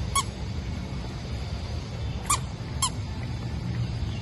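Three short, bright bird honks at Bandung Zoo, spaced apart over a steady low rumble of outdoor background noise, with no voices.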